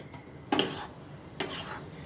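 Nuts and cashews roasting dry in a pan for pottukadalai laddu, with two short scraping stir strokes over a faint steady background, fairly quiet and close.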